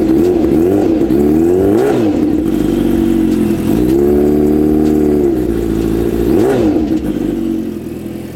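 A cold Kawasaki Ninja H2 supercharged motorcycle engine revs repeatedly in a residential complex, loud and close, with rising and falling throttle blips over a steady idle and no talking.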